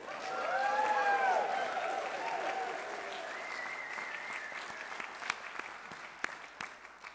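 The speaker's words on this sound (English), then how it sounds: "this is where the congregation goes wild with applause" A church congregation claps and cheers, loudest at the start, then settling into scattered claps and a murmur of voices that gradually thins out.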